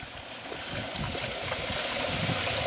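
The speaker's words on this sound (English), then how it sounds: "this waterfall is one heck of a sound of summer" A steady, dense rush of falling water fills the scene, constant and fairly loud, with gurgling and splashing textures and no voices.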